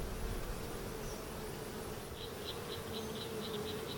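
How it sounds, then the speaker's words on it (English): Calm honeybees working at an open hive, a steady soft buzz filling the air with a few individual bees droning closer now and then, no voices. "So again, we've got calm bees."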